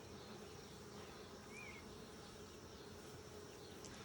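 Honeybees at an open hive give off a steady, dense buzz that fills the whole stretch, a constant drone with no pauses.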